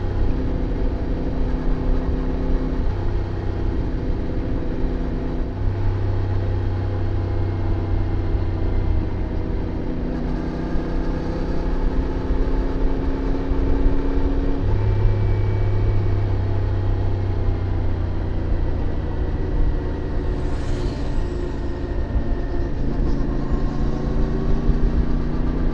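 A CF Moto 450MT motorcycle engine pulls steadily in fifth gear while climbing winding Alpine mountain roads, a continuous loud drone with shifting harmonic tones and wind rush throughout, no voices.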